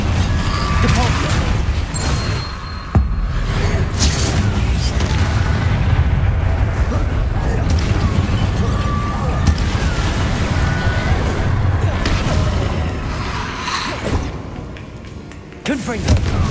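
Repeated Depulso spell blasts thump through Hogwarts Legacy combat mixed with Confringo and Revelio casts, a few loud impact booms scattered across a thick, rumbling layer of fight noise and in-game voices.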